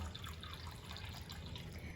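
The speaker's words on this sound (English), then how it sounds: "I'm adding 4 cups of water to 1 cup of dal" Water pours into a pot of soaked yellow and red dal, four cups to one of lentils, making a quiet continuous splashing and trickling wash close by, with no voices.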